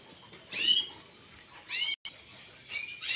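Caged birds at home chirping in three short bursts of bright, rapid tweets, close by, separated by near silence.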